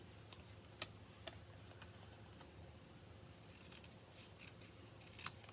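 A few faint, sharp snips of scissors cutting through stamped paper card at a crafting table, isolated clicks spaced apart against a quiet room hum.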